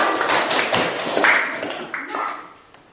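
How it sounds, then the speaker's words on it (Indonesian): Classroom applause for a student, a brief scattered burst of clapping from a group of pupils, moderately close, tapering off after a few seconds. "tepuk tangan dulu untuk teman kita."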